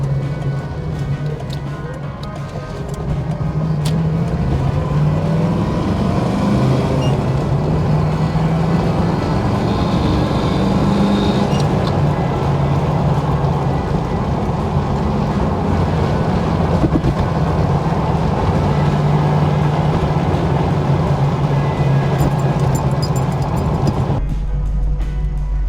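A 1979 AMC AMX driving with its exhaust droning loudly and steadily from inside the cabin, the engine tone rising and falling slightly before cutting off abruptly at the end.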